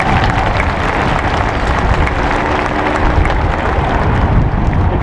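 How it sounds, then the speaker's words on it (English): An audience at a graduation ceremony applauds loudly and steadily, a dense wash of many hands clapping at once in a large hall, sustained without pause. "Let's give them a round of applause."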